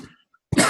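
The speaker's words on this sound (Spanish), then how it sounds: "es que la tos" A single sharp, loud cough from a speaker at a talk on creative methodologies, coming suddenly after a brief silence that follows a trailing vocal sound.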